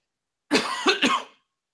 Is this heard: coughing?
yes